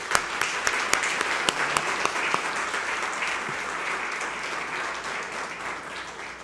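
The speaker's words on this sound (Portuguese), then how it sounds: "E a Ele uma salva de palmas." Applause fills a legislative chamber during a solemn evangelical commemoration session, a sustained crowd of hands clapping with a few sharper claps near the start, holding steady and then gradually thinning.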